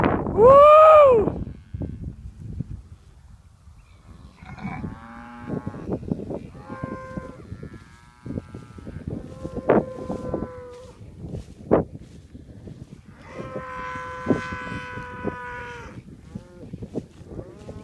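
Red and black crossbred South Texas cattle grazing on a ranch near Boling give several long, loud moos, spaced out over steady outdoor background noise, some close and some farther off.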